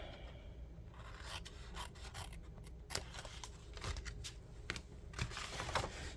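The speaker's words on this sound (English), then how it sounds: "So again, we cut on the score lines, give a little bit of an angle, cut the tab off." Scissors snip through the paper tab of a handmade gift bag along its score lines, a close run of crisp, uneven cuts and rustling paper with a few sharper snaps, no talking.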